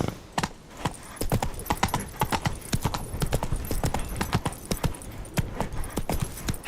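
A horse in the video game Witcher 3 gallops in a fast, steady clip-clop rhythm of hoofbeats, close and continuous with a faint background bed.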